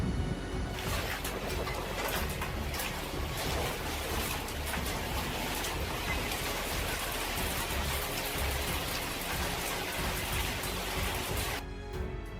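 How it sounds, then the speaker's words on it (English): A hailstorm pelts parked cars in a dense, continuous drumming of hard hits that holds steady throughout and cuts off abruptly at the end. "These cars will probably be badly damaged after this hailstorm, which occurred on August 20th."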